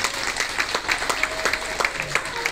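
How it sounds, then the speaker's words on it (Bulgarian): Wedding guests applaud at a Bulgarian wedding celebration, a lively crowd clapping with distinct individual claps standing out over a steady wash, fairly close and continuous. "Аплодисменти, мили гости."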